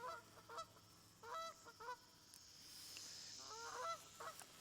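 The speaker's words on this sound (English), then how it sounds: "Listen to those geese, are a nuisance." Geese honk in repeated short bursts, moderately near, against a quiet outdoor background with faint hiss.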